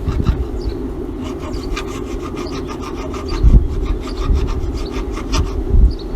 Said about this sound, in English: Sandpaper in there and sand that out.